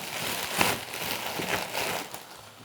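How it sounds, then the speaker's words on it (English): A plastic mailing bag is ripped open for an unboxing of comic issues, giving steady crinkly rustling and tearing with a sharper rip near the start, close and moderately loud throughout. "Sorry for the rustling noises, but you know, I am ripping the bag open."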